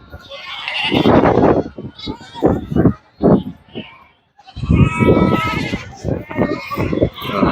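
Goats and sheep at a livestock market bleat loudly and close by, in several separate calls with short pauses between them, while people talk around them.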